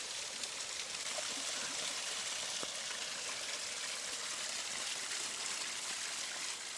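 Creek water pouring over a rock drop in Hackberry Canyon, a soft, steady rushing and trickling wash heard from a little distance, constant with faint splashes and no talking.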